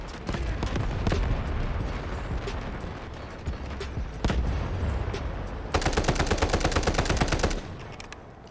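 Rapid bursts of AK rifle fire in a fast-paced modern first-person shooter game, loud and close, with repeated automatic volleys and a dense sustained stretch of rapid shots near the end over busy game ambience.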